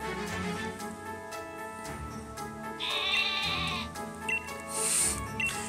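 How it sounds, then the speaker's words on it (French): Repeated bleating from a sheep Pokémon in Pokémon Shield, short nasal calls standing out over a layered game music background, with a couple of higher bursts later. "Mouton, où est le mouton?"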